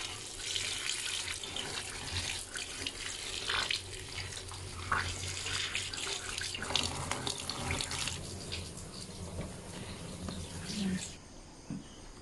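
Water runs steadily from a kitchen tap while meat is washed under the stream, a continuous splashing rush with faint crickets in the background.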